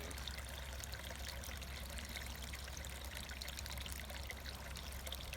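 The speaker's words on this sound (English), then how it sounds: "But the high water channel is still flowing." Water flowing steadily through the high water channel of a sand stream erosion model, a continuous trickling, pouring rush that stays even throughout, close and moderately loud with no talking.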